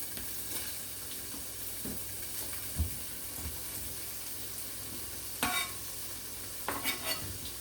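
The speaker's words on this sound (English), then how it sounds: "The skillet is very hot, so it's just gonna get to frying up our sausage" Sausage frying in a very hot skillet, a steady close sizzle running throughout with a few stirring scrapes and knocks.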